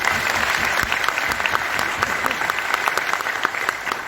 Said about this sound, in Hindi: एक बार इस टीम वर्क के लिए जोरदार तालियां।